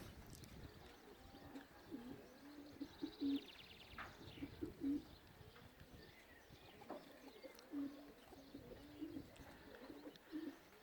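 Soft racing pigeon cooing repeats in short rounded phrases against a faint outdoor background, with an occasional chirp and light rustling.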